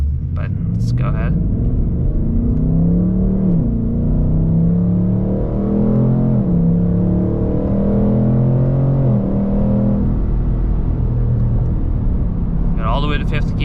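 A 2024 Ford Mustang is floored at full throttle, its engine note climbing in pitch, dropping and climbing again several times, loud and close from inside the car.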